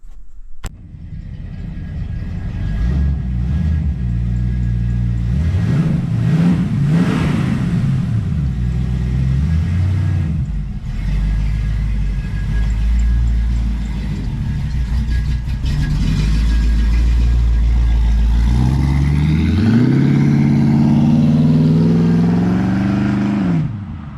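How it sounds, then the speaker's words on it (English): A modified 1954 International pickup truck engine idles with a loud, close rumble, revs up and drops back several times, then gives a long rising rev near the end. "this is my 1954 International pickup"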